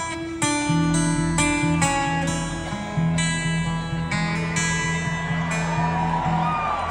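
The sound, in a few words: guitar playing a riff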